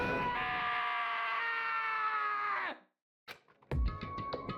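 Screams from the video game Danganronpa: Trigger Happy Havoc rise as a loud, sustained wail that cuts out abruptly. After a short silence, harsh noisy bursts and another strained cry follow.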